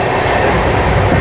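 A loud, close express train rumbling through Pudur railway station, with heavy continuous roar and rhythmic clatter of wagons throughout, no talk.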